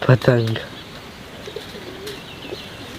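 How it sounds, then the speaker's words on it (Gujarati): A brief voice at the start, then soft, low pigeon coos repeating faintly in the background. "કબૂતર વધારે આવી ગયા ભાઈ"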